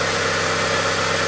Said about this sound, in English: While the vehicle is running